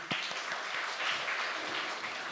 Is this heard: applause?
yes